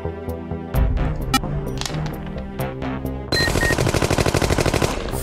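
Gunfire effects from the Chainsaw Warrior video game: dense repeated shots over a busy game soundtrack, turning into a loud, rapid automatic burst in the last two seconds.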